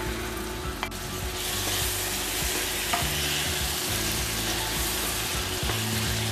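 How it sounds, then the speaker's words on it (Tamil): Chopped tomatoes with garam masala sauté in a pan for Chettinad chicken kulambu, a steady loud sizzle with occasional stirring scrapes close by. "தக்காளி நல்லா ஸ்மாஷ் ஆகிற வரைக்கும் நல்லா வதக்கி விட்டுக்கணும்"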